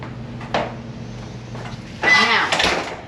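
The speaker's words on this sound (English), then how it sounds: "So let me close the door." Door being closed in a gun shop, a short bump followed by a louder latching thud and rattle, with background murmur.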